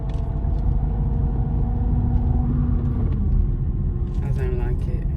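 A car's engine making an odd rumbling noise, a steady loud low drone filling the background, with a person talking over it.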